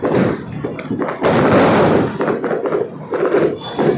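Bullet bomb firecrackers burst during Diwali celebrations, several loud, sharp cracks and booms in quick succession with rumbling tails, while people's voices carry faintly around them.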